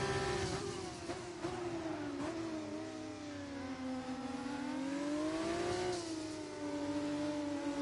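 An F2 race car engine in a racing video game whines steadily at high revs, pitch rising and falling through gear changes, heard alone at moderate level.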